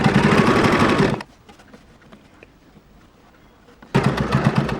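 A sewing machine stitches fabric in two loud bursts, running for about a second at the start and again near the end, with a quiet pause between.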